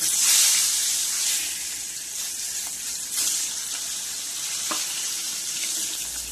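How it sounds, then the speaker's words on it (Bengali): Fish frying in hot oil with turmeric in a wok, giving a close, continuous, bright hiss and sizzle that stays fairly even throughout. "আগে কড়াতে তেল গরম করে নিয়েছি, হলুদ দিয়ে দিলাম। এবারে মাছগুলো ভেজে নেব।"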